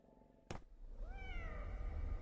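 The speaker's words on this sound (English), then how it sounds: "All right, I hear a cat meowing." A single wavering meow comes from a cat in an indie horror video game, moderately close, after a sharp click, over a low rumbling ambient drone.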